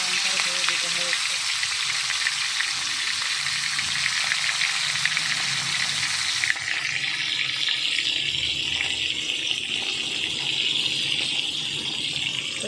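Food frying in hot oil in a home kitchen, a loud continuous sizzle and crackle that persists throughout, with a faint voice in the background.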